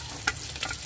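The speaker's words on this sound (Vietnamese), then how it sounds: "Cá vàng rồi thì mình bỏ hành, hành băm vào, hành tím đã băm," Minced shallots and chili sizzle and fry with fish in a pan, a steady soft frying hiss with a couple of brief stirring scrapes, close and quiet.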